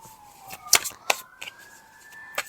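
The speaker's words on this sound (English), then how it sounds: "Sorry about the sirens." Emergency vehicle siren wailing outdoors, a steady rising tone heard faintly in the background behind sharp clicks and handling noises.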